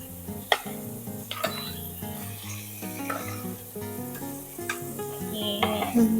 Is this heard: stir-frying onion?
yes